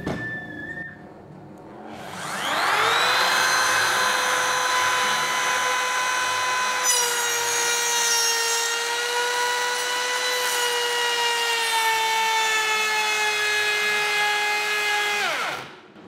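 A power tool cuts a slot into bengkirai hardwood with a sustained high, strained whine that starts after a quiet moment, holds steady for about thirteen seconds, then cuts off abruptly. It is loud and close, with no talking.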